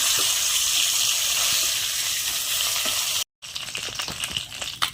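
Bhola fish pieces frying in hot oil, a steady loud hiss filling the first three seconds, then a brief cut and a rougher, crackling sizzle with scattered pops.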